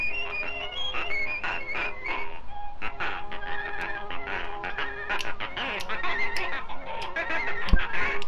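Cartoon duck honking from the Steamboat Willie animation, repeated nasal honks and squawks over a busy, lively orchestral score, steady loudness throughout with a sharp accent near the end.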